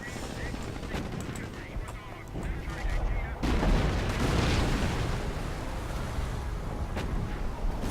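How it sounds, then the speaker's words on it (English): An artillery barrage in the World War II strategy game Company of Heroes, with a sudden loud burst of booming explosions and rumble cutting in midway over sharp cracks of gunfire and battle noise. "let's just do some kind of barrage just to push them a little bit"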